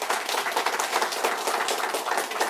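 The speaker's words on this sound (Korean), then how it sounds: "이강우 후보님께 큰 박수 부탁드리겠습니다" A crowd at a Liberty Korea Party public audition in Wonju claps steadily for a rival candidate, a dense, even wash of applause throughout the short stretch.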